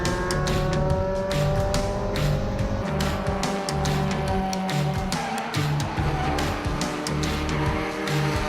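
Race cars roar around Sebring International Raceway during a Hoosier Super Tour race, engines rising and falling in overlapping passes with tire squeal and a constant dense mechanical din.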